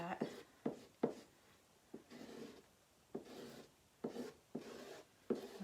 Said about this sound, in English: Scraping down all that extra paste, skimming it down, making sure all the silk screen is filled in.